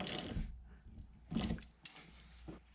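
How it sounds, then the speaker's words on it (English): A hand ratchet tightens a 10mm nut on a Honda Fit rear wiper motor, giving a few faint, short clicking bursts spaced apart in a quiet setting. "Tighten it in place."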